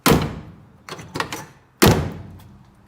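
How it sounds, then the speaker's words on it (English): Heavy American steel doors of a classic Chevrolet Corvair are shut three times, a loud solid thunk opening the sequence, two lighter knocks following, then another loud slam, each ringing out briefly close by. "Nice big heavy doors. It's American steel."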